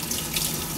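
Tap water runs steadily into a sink while vegetables are rinsed for Tagalog-style pinakbet with upo; a continuous close splashing stream with no talk.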